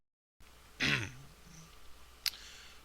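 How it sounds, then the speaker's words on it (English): A man clears his throat once with a rough, close grunting rasp after a moment of silence, followed by a quieter stretch and a short sharp noise near the end. "I'm gonna go cough my head off"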